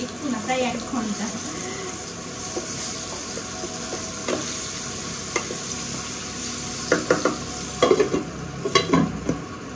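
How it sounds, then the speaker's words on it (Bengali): Potatoes tossed with turmeric fry in a pan, giving a steady sizzle under scattered stirring scrapes and clinks, with a few louder utensil knocks near the end. "দিয়ে আলুগুলো একটু ভেজে নেবো, ভালো করে একটু লাল লাল করেই ভাজবো"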